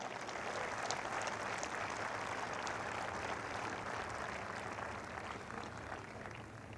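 At a school prize-giving function, an audience applauds staff in a large hall: continuous, distant-sounding clapping with a broad crowd wash, steady and fairly quiet, easing slightly toward the end.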